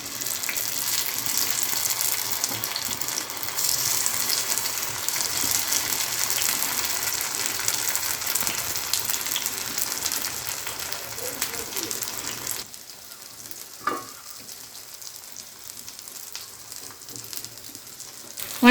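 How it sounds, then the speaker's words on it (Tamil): Raw plantain slices shallow fry in hot oil with a dense, steady sizzle that drops off abruptly near the end, leaving a quieter background with a brief clatter. "எண்ணெய் சூடாகிடுச்சு. வாழைக்காய் ஒன்று ஒன்றா வச்சுருவோம்."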